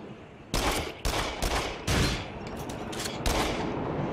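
Shotgun blasts in the Until Dawn: Rush of Blood shooter game, about six loud, sharp shots at irregular intervals over a continuous rumbling background.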